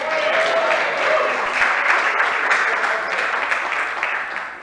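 Conference audience at a tech talk clapping steadily, a dense wash of applause in an indoor hall that holds for several seconds and thins slightly at the end.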